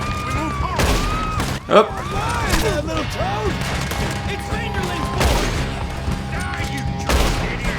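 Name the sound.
gunshots from the video game Red Dead Redemption 2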